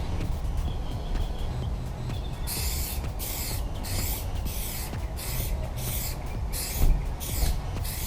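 A car emblem gets a very light tack coat of Rust-Oleum FlexiDip from an aerosol can: after a quiet start, a run of short, close spray hisses pulses on and off as the can sweeps back and forth, with no talking.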